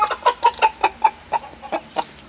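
A rooster clucks in a quick series of short, sharp calls close by, about a dozen clucks in an uneven rhythm.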